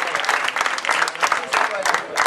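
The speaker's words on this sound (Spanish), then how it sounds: "La gente que retribuye el aplauso del conjunto rojiblanco" Stadium crowd applauding at a football match between C Aguirre and Santa Fe FC, dense clapping in rapid bursts with crowd noise, while a commentator speaks over it.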